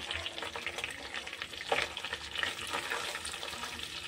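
Bay leaves, cinnamon pieces, cloves and green cardamom crackle gently in butter over a low flame, a soft continuous sizzle with faint stirring taps and small pops throughout.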